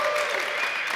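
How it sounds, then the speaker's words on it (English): A crowd applauds in a brief, continuous burst of clapping, fairly loud and even, with no clear speech over it. "I think they're applauding his name."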